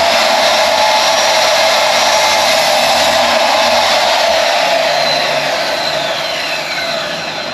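Craftsman 7-1/4-inch compound miter saw running through wood, a loud, steady high-pitched motor whine with a cutting drone that tapers slightly toward the end, close up with no talking.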